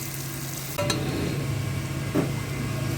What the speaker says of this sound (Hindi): अब हम अच्छी तरह इसको मसाले में मिक्स करेंगे और हल्की आंच पे 4 से 5 मिनट तक इसको हम पकाएंगे।